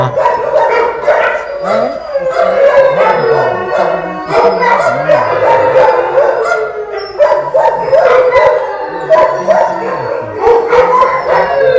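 Several dogs at a temporary dog holding shelter in Yakutsk, Russia, howl, yelp and bark loudly and continuously, their overlapping wails rising and falling close by with no voices.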